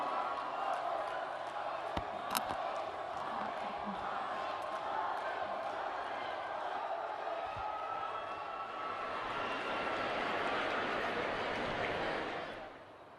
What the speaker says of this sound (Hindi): और एक बार जोरदार तालियां माननीय प्रधानमंत्री जी के स्वागत में।